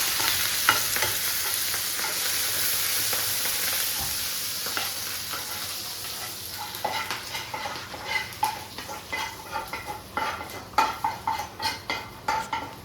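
Shallots and curry leaves sizzle and crackle in hot oil as the tempering for a crab curry, with stirring and a ladle scraping the pan, ending in a quick run of clinks and sputters poured over the curry.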